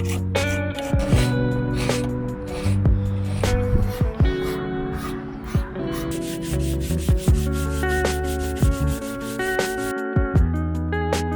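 Hand scraping and sanding along a boat's toerail during gelcoat restoration prep, repeated rasping strokes heard close beneath steady background music.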